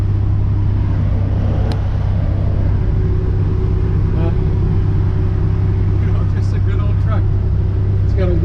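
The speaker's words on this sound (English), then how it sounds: "There is some wind noise, but not near as bad as I thought." Steady, loud wind roar and low road rumble inside the cab of a 1954 Chevy 3100 pickup cruising at around 50 to 60 mph, a continuous drone with a few faint rattles.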